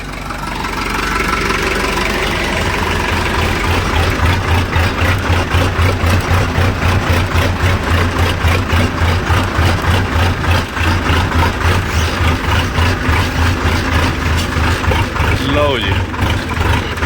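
A tractor engine idles loudly and close at a rice paddy puddling job, a steady low rhythmic chugging that runs throughout with a faint voice briefly audible over it.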